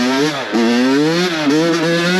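A dirt bike on a group ride with pedal bikes revs hard and close, its engine pitch rising in repeated climbing pulls with short dips between.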